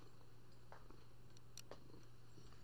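A cat purrs close by in a low, steady, continuous rumble, quiet and unbroken, with a few light clicks and rustles over it.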